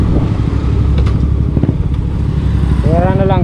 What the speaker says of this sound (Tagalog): kasi maingay itong aking motor eh, yung tambutso niya.